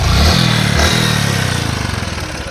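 A motorcycle engine starts up nearby, firing into a loud throaty run that settles into a steady, rapidly pulsing idle, with no voices over it.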